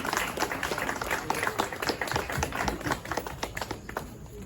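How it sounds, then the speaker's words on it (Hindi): An audience at an Adivasi Day gathering in Nagpur claps for a welcomed guest, the applause moderately loud and slightly uneven with distinct individual claps audible in the texture. "ताली द्वारा"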